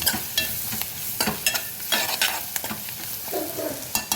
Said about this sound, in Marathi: हे सगळे मसाले चांगले परतून घ्यायचे आपण